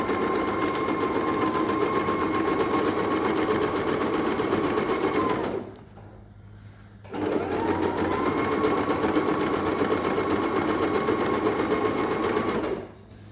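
A Singer sewing machine stitches zigzag on cloth, running loud and close with a steady whir, stopping briefly midway, then starting again and stopping near the end.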